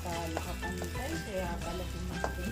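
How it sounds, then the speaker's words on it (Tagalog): Onions sautéing in vegetable oil for pork binagoongan, a steady close sizzle and crackle with faint clinks of stirring and low background murmur throughout. "Magsasaute lang muna tayo ng onions until maging translucent siya."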